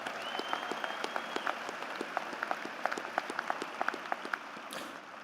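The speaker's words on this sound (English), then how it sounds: "A round of applause, please, ladies and gentlemen." Scattered audience applause at a high school graduation ceremony, fairly distant and light, with individual claps popping out over a soft hall ambience.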